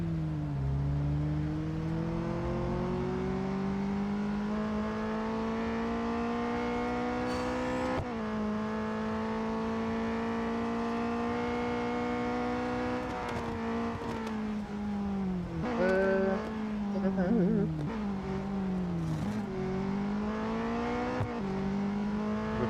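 Race car engine from the Real Racing 3 mobile game, a continuous high revving whine that climbs through gears and drops sharply at shifts and braking for a chicane, steady and close throughout with no talking.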